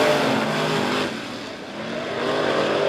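Race cars roar around a dirt speedway oval in a steady, loud engine drone that swells and dips slightly as cars pass.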